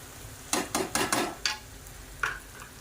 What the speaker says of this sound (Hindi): ये उठा लूँगी प्लेट और ये ढक दी, गैस कर दी बंद।